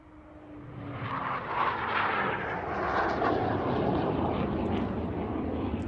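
A 1958 Hawker Hunter T7 jet flies at the RAF Waddington airshow, its engine roar swelling from a distance into a broad sustained rumble that stays loud through the end.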